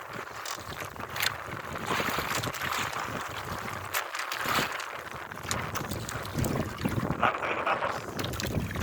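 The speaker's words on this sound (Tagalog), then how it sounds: "Yung mahangin lang guys, tsaka maalon-alon" Steady wind buffets the microphone while waves slosh against a small fishing boat at sea, a continuous rushing roar with occasional knocks, no voices.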